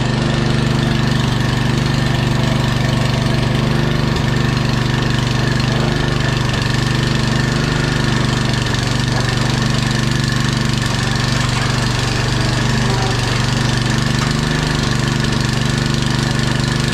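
A Honda HS928 snowblower engine runs loud and steady throughout, a continuous close-up mechanical drone with a low rumble and no talking.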